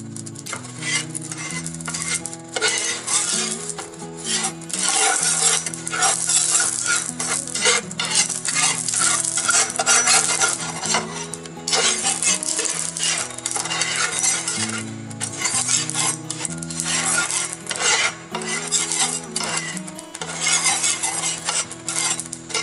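Oil heating on a tawa over an induction stove, a steady loud sizzle with scraping utensil clatter throughout, no voices.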